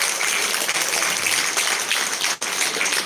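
A large live audience at a corporate event in Malaysia claps steadily and loudly throughout, with one brief dip near the end before the applause resumes.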